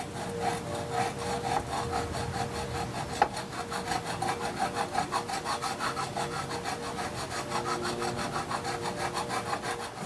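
Hand sanding of a Husqvarna 2100 CD motorcycle engine part with abrasive grit, a close rhythmic scraping back-and-forth stroke repeated steadily throughout, with no talk.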